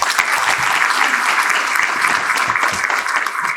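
A steady burst of applause from a crowd at a lecture, dense clapping that holds evenly throughout with no voices breaking through.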